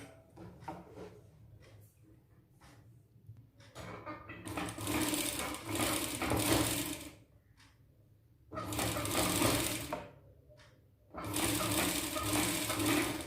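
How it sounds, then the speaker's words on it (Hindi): A sewing machine stitches around the neckline of a size 34 three-piece princess blouse in three long, steady whirring bursts separated by short pauses with faint handling clicks. "तो पहले हम इसकी स्टिच करते हैं।"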